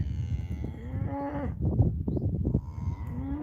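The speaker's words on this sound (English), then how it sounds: "so much mooing" Several cows moo repeatedly at a homestead near a hay shed, with long drawn-out bellows overlapping one another, loud and close throughout, with no talking.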